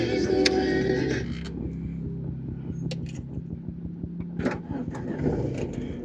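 A used 2022 Wuling Confero DB car engine cranks with a short burst of noise, then settles into a steady idle with a regular ticking pulse, heard up close with a few faint clicks and knocks.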